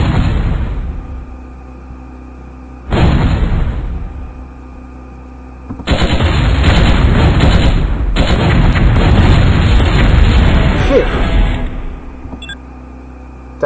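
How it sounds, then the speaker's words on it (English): A robotic rifle fires in the MechQuest video game, heard as loud booming bursts with a sustained roaring barrage lasting several seconds, game sound effects with no talking. "Robotic rifle."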